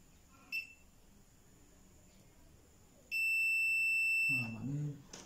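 A multimeter on continuity checks a fuse: a quick short beep, then after a pause a steady high buzzer tone lasting over a second, close and clear, with a voice talking briefly just after.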